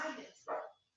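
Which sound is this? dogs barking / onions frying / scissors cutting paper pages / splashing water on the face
dogs barking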